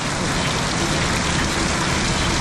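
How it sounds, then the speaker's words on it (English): Steady rain shower drumming on an open umbrella on a street in Penang, Malaysia, a dense continuous patter filling the whole moment at close range, loud and unbroken. "we've just got caught in a bit of a rain shower"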